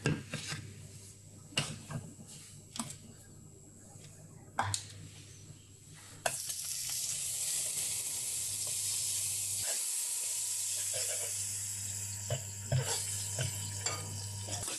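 A croque sandwich frying in a hot pan: scattered scraping and clattering knocks give way to a steady, close, loud sizzle that carries on to the end.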